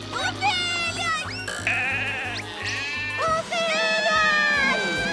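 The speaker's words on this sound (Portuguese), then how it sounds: "Ovelhas!" Cartoon sheep bleat repeatedly in quavering, high-pitched cries over a steady rhythmic engine drone, with excited cartoon voices mixed in, loud and close throughout.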